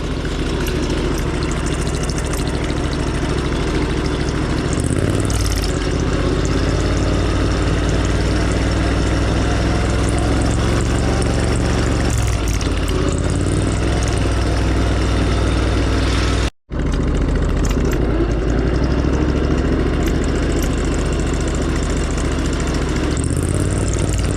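A Craftsman LT4000 lawn tractor engine drones loud and steady while cruising in third gear at about 5 miles an hour, a constant low rumble close by with one sudden brief cutout near the end.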